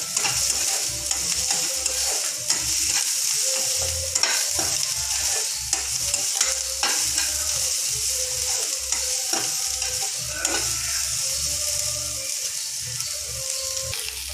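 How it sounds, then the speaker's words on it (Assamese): Banana flower fries in a pan for a curry with soybean and potato, giving a continuous close sizzle with frequent scraping and clinking of a spatula stirring it throughout. "এইখিনি মই অকণমান সময় ভাজি লওঁ, 2-3 মিনিটমান সময়।"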